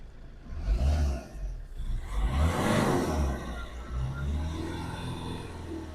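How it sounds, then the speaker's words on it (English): A car engine revs a few times at close range, rising and falling in swells over a low idle rumble, with voices faintly in the background. "do you mind just giving it a rev for me?"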